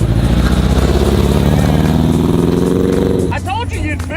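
A very small car fitted with a sport motorcycle engine revs loudly and steadily up close, then the engine note drops off as it pulls away, with a voice coming in near the end.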